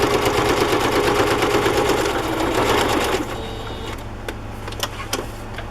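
A sewing machine runs a straight stitch through a handmade matchbook notebook for a junk journal, a steady close whirring for about three seconds that then stops, leaving quieter small clicks and handling noises.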